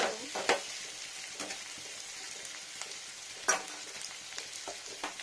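Small whole eggs frying in oil in a pan: a quiet, steady sizzle with a few soft spatula knocks and scrapes, heard up close with no speech.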